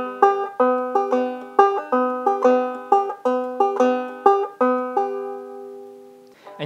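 A clawhammer banjo plays a syncopated skip exercise at a quicker tempo, with bright plucked notes in a steady, bouncy, uneven rhythm, heard close and alone before the last notes ring out.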